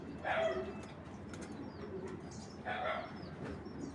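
A tiger grizzle racing pigeon flaps its wings close by in two brisk bursts a couple of seconds apart, over a low, steady background murmur.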